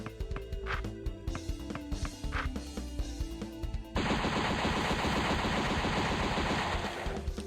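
Rapid machine-gun fire from the video game Barkley, Shut Up and Jam: Gaiden breaks into a dense, loud, continuous burst after a few seconds of quieter game sounds.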